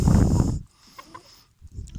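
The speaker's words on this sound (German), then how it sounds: "Guck mal, jetzt frisst er aus der Hand, Kneisel, guck mal." A rooster clucks while pecking food from a person's hand in a backyard chicken coop in December. One loud, dense burst comes first, followed by soft, scattered clucks and pecking sounds close by.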